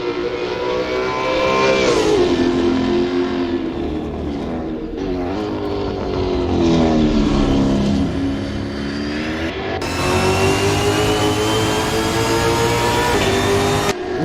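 In a virtual Bathurst 1000 sim race, a race car engine howls loudly and continuously, its pitch climbing and dropping through repeated gear changes, with other cars' engines blending in nearby.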